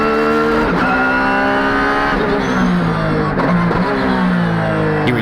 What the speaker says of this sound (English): Tsuchiya goes out for his last time attack. He goes out for a lap on used tires to check the machine setting.